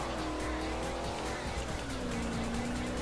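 Car accelerating hard in Forza Horizon 2, a Fast & Furious 7 race DLC with an old Opala muscle car, engine whine rising steadily with tire squeal throughout, loud and continuous.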